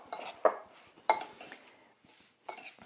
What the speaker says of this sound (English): we're going to stir that all together